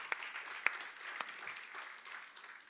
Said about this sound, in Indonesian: Tepuk tangannya kurang dahsyat saudara.